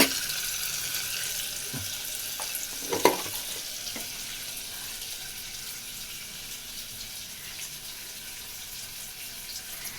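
Tomatoes frying with salt in a pan at home give a steady soft sizzle throughout, with a few brief clinks and stirring knocks near the start and no talk.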